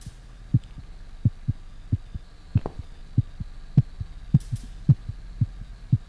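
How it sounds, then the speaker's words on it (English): An uneven heartbeat in the horror game The Cat Lady thumps in close, low pulses with irregular spacing, some beats paired, over a faint steady hum. "Whoever has that heartbeat needs to take some medication, because that's a really irregular heartbeat."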